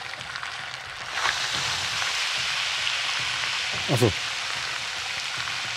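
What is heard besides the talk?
fish deep-frying in oil in the video game Dave the Diver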